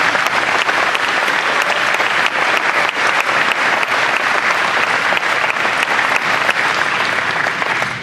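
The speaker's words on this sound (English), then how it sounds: "I'd like for you to give them a round of applause and thank them" A school graduation audience applauds the faculty and staff with dense, sustained clapping that holds at full strength the whole time and fades slightly at the very end.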